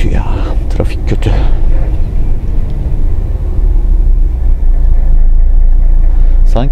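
Busy city road traffic in Bursa, a steady broadband rumble of engines close by that holds throughout, with a short voice near the start and a brief high squeal at the end.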